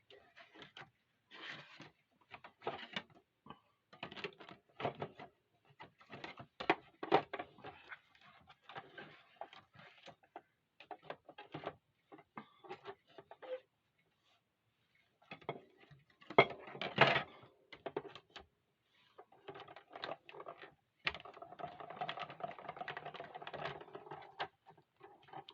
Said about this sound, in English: I just have to run it through the embossing, through my my embossing machine.